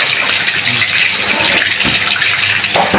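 Flour-coated tilapia belly fries in hot oil, a loud, steady, close-up hiss and sizzle that fills the whole moment without pause.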